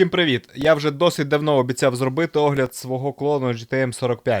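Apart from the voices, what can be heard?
None of the usual background noises is heard.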